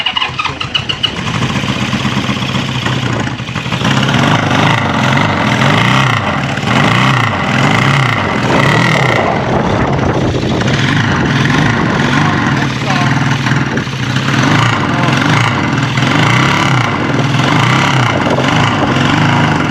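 A 1974 Honda CB550 motorcycle engine cranks and catches on its first start, then runs and revs unevenly with sputtering, rising and falling pitch, while people talk nearby.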